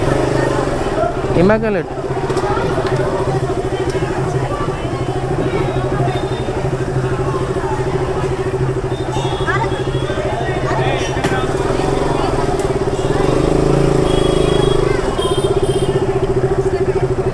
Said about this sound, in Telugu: శ్రీకాంత్ బండి స్టార్ట్ చేయి, స్టార్ట్ చేయి.